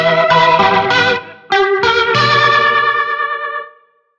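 Electric guitar played through a Leslie rotary speaker effect on a Fractal unit, a few ringing chords with a swirling, shimmering modulation, a short gap, then more strums that sustain and fade out.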